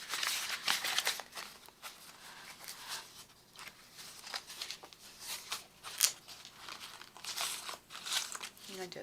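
A paper expandable envelope in a three-ring binder Christmas journal is handled, with a steady close run of crinkling, rustling and flapping paper sounds throughout.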